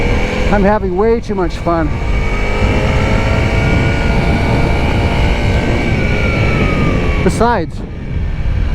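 A Honda CRF300L dual-sport motorcycle rides along with a loud, steady engine drone and wind roar, heard close from the rider's position, while someone talks briefly near the start and again near the end.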